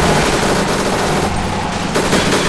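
Explosions and gunfire from a multiplayer match of the video game Empires, a dense, continuous loud blast of booming and crackling without a break, no talking heard.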